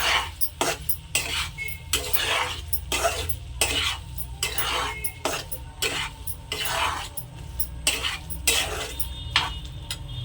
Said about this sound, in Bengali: এখন একটু নেড়ে চেড়ে নেব।